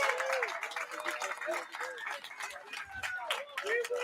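Steady applause from a crowd at a beer competition awards ceremony, dense clapping with cheers mixed in, continuous and fairly loud throughout.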